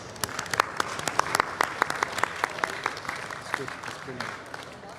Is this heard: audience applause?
yes